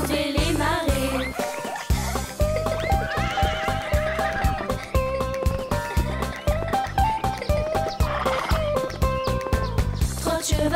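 A horse whinny rises briefly inside a French children's nursery song about a trotting, galloping horse, set against a steady bouncy rhythm of instruments and backing music that stays loud throughout.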